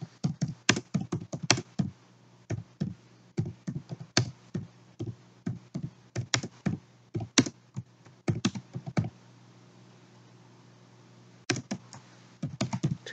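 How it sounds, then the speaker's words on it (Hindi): Computer keyboard typing in quick irregular runs of close, crisp key taps, with a short pause near the end before a few more keystrokes. "मैं यहाँ पे टाइप करूंगी।"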